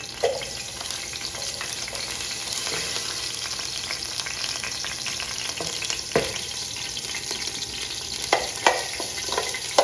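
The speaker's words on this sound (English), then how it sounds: "you don't want it to burn, you just want it to saute a little bit." Garlic, onions, hot pepper and frozen vegetables sauté in a pan with a constant crackling sizzle. A few soft stirring knocks break it now and then, close up and with no voices.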